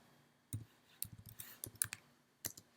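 Keys tapped on a computer keyboard while entering a CSS selector, a single click followed by a quick burst of close, crisp keystrokes, then a lone final tap, with no talk.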